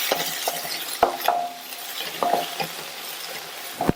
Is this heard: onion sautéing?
yes